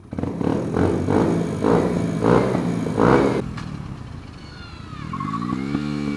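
A 125cc racing motorcycle engine revs repeatedly in loud bursts, then drops and rises again in pitch as it accelerates nearby.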